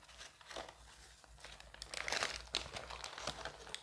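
Paper wrapping around a delivered fast-food burger crinkles and rustles as it is handled and unwrapped, soft close crackling bursts with no talking.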